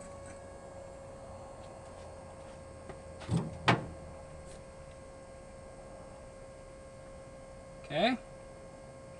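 An electric fuel pump hardwired on a 1950 Ford F1 runs as a steady, even electrical hum throughout, with a few brief clunks and one short spoken word.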